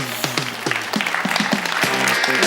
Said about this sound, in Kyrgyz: кол чабуулар жаңырсын